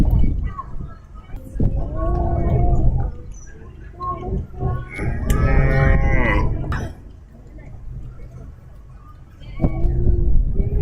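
Blonde d'Aquitaine cattle moo loudly at the Beef Australia show, a long drawn-out low call in the middle with other shorter moos, under an announcer talking and crowd noise around.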